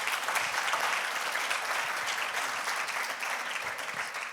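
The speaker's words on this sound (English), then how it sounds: "maybe they can get a round of applause" Audience applause at a conference on journalism and AI ethics, steady dense clapping from a sizeable crowd, even in loudness throughout.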